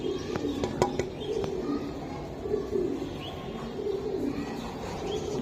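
Giribaz high-flying racing pigeons coo softly in repeated low, rolling phrases against a steady background hiss, with a few faint clicks.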